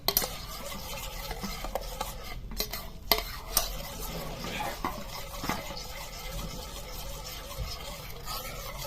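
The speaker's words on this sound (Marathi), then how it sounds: "या पाण्याला गुळ वितळेसपर्यंत कंटिन्युअस हल हलवत राहायचंय नाहीतर मग खाली गुळ तळाला चिटकून बसतो" Jaggery is stirred into boiling water in a pot, giving a continuous scraping, rubbing swirl of a spoon against the pot with a few small clinks, steady throughout.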